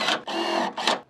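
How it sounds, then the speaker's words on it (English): A power drill drives screws into a metal rain gutter downspout elbow in short close whirring bursts, three quick runs with brief pauses between them. "I'm just gonna throw a couple screws in it just to hold it."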